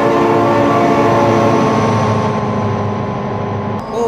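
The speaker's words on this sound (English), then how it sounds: "Oh my god, train!" A train rumbles past close by with a sustained, loud roar and tonal horn-like hum, fading slightly toward the end.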